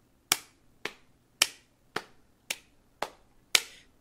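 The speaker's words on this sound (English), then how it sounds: "So you're going to tap your knees and then you're going to clap your hands." Hands tapping knees and clapping in a toddler music rhythm game: eight crisp, evenly spaced hits over four seconds, close and clear with silence between.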